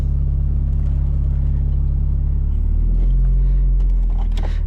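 Engine of a 30-year-old Mazda Miata with a manual gearbox pulling away as the clutch is eased out, a steady low rumble that deepens and swells partway through, close and loud.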